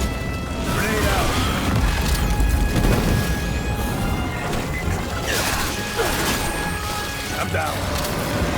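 A grenade blast in the video game Aliens: Fireteam Elite booms and crashes amid dense, continuous combat noise, with voices talking underneath throughout.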